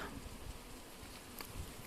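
Honeybees buzz steadily around an open hive during an autumn check of newly introduced queens, a continuous close drone with no talking.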